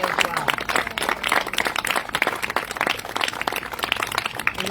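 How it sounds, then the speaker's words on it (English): A crowd applauds active military members and veterans at an Armed Forces Day program in Delavan, Wisconsin, giving loud, dense, sustained clapping with a few scattered voices mixed in. "So a big round of applause for all of our active military and our veterans"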